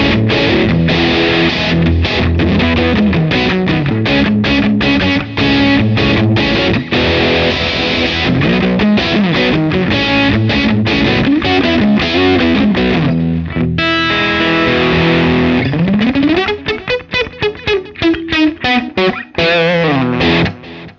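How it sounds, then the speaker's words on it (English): An electric guitar plays an 80s-style riff through a Laney Monolith distortion pedal, giving a smooth, heavily compressed, saturated tone with chugging rhythmic chords and sliding notes, loud and continuous with no talk. "It is quite kind of a smooth distortion, quite a compressed distortion."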